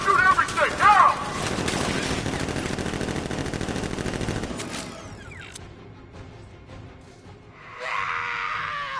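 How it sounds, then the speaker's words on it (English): Goons firing guns in Batman Arkham Knight, dense rattling bursts of automatic gunfire with shouting voices over them, fading into quieter mechanical clatter and another burst near the end. "Guns! Open fire! Shoot everything! Now!"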